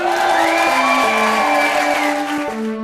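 A large, loud crowd at a French slam poetry show cheers and whoops with strong sustained vocal shouts over a steady wash of noise, continuous for the whole stretch.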